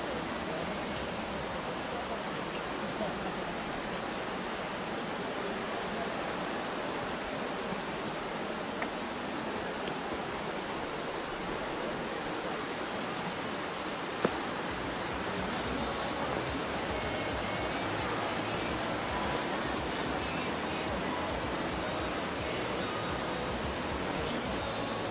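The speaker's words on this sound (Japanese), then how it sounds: "せせらぎの音" A babbling stream rushes steadily and evenly for the whole stretch, a close, unbroken wash of running water with no voices over it.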